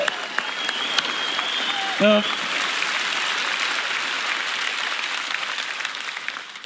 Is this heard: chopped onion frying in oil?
no